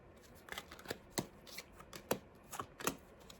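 Playing cards handled and laid out one by one for a reading: a series of about eight crisp, close card snaps and slides at an uneven rhythm over a quiet background, with no talking.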